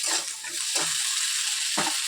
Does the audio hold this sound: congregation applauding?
no